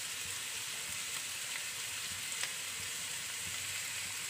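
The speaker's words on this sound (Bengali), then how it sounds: "এবার আমরা সবজিগুলোকে একটু ভেজে নেব। তো এবার ভাজার সময় আমরা একটু সামান্য নুন দিয়ে দেব।" Chopped carrot and capsicum fry with a little salt in a pan, a soft, steady hiss of sizzling oil that stays faint and even, with no voices.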